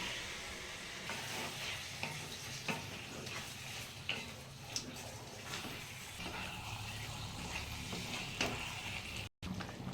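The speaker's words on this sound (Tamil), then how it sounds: "மிளகா பொடியெல்லாம் சேர்த்து வச்சா சிக்கனை போட்டு பிரட்டி எடுத்துக்கலாம்" Chicken coated in chili powder sizzles and fries in a pan for Chettinad chicken curry, a steady soft hiss broken by occasional scraping stirs and light clicks of the spoon, with no talking.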